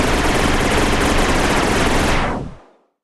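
Custom-built guns fire in a video game as a dense, continuous automatic burst, loud and close, cutting off sharply and leaving a brief fading tail, no talk.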